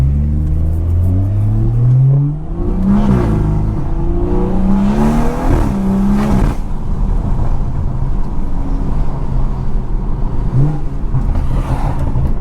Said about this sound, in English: Them downshifts go crazy too.